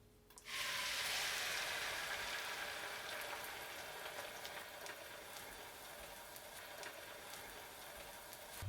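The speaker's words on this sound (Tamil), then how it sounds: "அதில் நம்ம கலக்கி வச்சுருந்த முட்டையை ஊற்றிடலாம்." Beaten egg poured into melted butter in a pan, setting off a sudden bright sizzle that stays strong and steady, gently fading over several seconds, close and alone.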